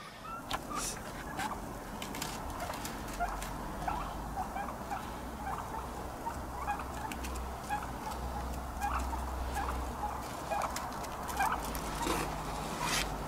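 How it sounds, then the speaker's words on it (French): Wild turkeys, young birds raised in Ontario, gobble and cluck repeatedly outdoors in winter, a steady chorus of short calls close by over low background rumble. "depuis quelques années, on a ça, des dindes sauvages ici."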